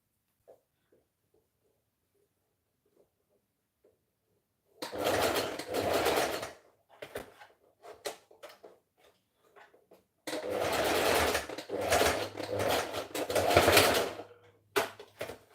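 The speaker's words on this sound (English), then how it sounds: "You see, I try to backstitch there so that it's gonna hold it well." A sewing machine backstitches fabric: quiet at first, then two loud close bursts of rapid stitching separated by a few short stop-start runs.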